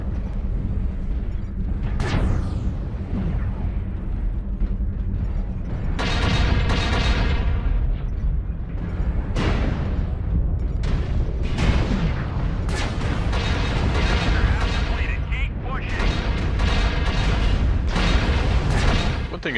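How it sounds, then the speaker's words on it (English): Ultra autocannons on a Dragon 5N mech fire in a video game, repeated heavy booming bursts over a constant mechanical rumble, some bursts long and rapid, others short and broken, loud and close. "my ultra auto cannons do jam, but they unjam pretty quickly"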